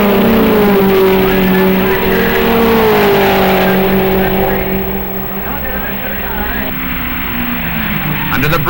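Porsche race cars at Road America in 1958, engines droning and shifting pitch as they pass through a corner, loud and continuous under a commentator's voice.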